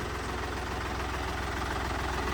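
A tractor's diesel engine idles steadily with a low, even thrum and a regular knocking pulse, loud and close, with nothing else heard.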